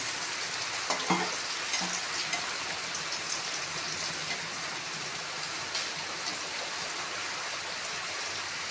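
Pea dal pakoras deep-fry in hot oil, a dense, even hiss like steady rain that continues unbroken, with a few faint clinks near the start, close and without talk.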